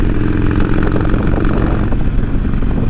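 Harley-Davidson Iron 1200 Sportster (2020) engine running steadily while riding, a loud continuous low rumble with a pulsing beat and no talk.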